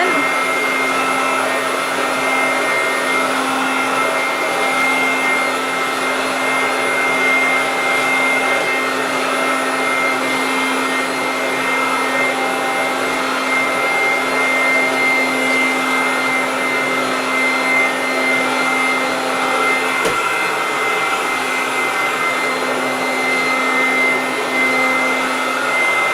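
A free-standing cordless vacuum cleaner runs with its brush roll engaged, a loud, unbroken motor whine with a steady tonal hum and airy rush held close and constant throughout.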